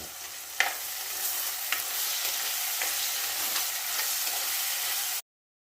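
Tomato and masala sautéing in oil for a prawn curry, a steady close sizzle with a few faint stirring scrapes, running alone until it cuts off abruptly near the end.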